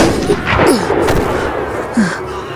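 Sniper gunfire at a military camp under attack, with several sharp cracks and booms spread across a couple of seconds, loud and near, layered over dramatic background sound.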